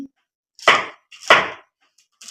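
Chilli chopped on a boti blade for masala muri: two crisp, close knife strikes land about half a second apart, with a third cut just beginning at the end, separated by near silence.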